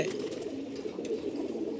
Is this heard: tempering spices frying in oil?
no